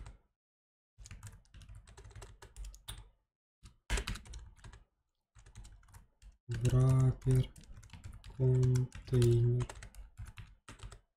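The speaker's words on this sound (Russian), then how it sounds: "я опять разучился в клавиатуре писать" Keystrokes on a computer keyboard come in uneven bursts of clicking, close to the microphone, while someone talks in between and over some of the typing.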